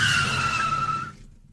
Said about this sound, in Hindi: तभी अचानक से इंजन में एक जोरदार आवाज के साथ टैक्सी बंद पड़ जाती है।